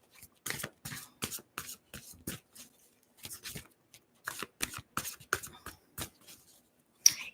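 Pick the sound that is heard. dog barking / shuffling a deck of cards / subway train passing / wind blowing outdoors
shuffling a deck of cards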